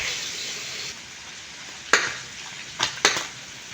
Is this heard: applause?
no